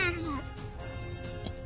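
A human voice imitates a Pokémon Sneasel's loud meowing growl, a brief, close, cat-like yowl that slides down in pitch before fading into a quieter tail.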